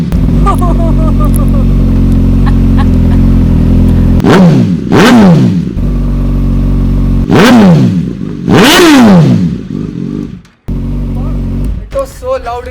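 A 1000cc stunt motorcycle engine idles with a deep rumble, then revs hard in several loud, rising-and-falling bursts up close, each blip screaming high before dropping back, the last ones sharper and more ragged.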